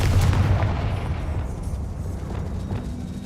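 A Confringo spell explosion in Hogwarts Legacy, a loud low booming blast that rumbles and slowly fades over a few seconds, with no talking.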